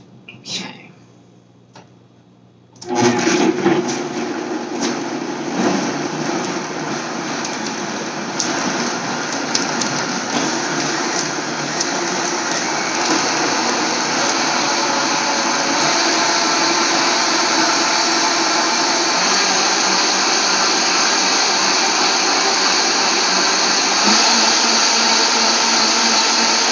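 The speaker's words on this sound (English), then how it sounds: "Looks like it's blended enough to me. All right, and I just recently got this Vitamix here" A Vitamix blender whirs through strawberry lemonade, switching on after a few seconds of quiet with small clicks and then running as a loud, steady, dense roar for the rest of the clip.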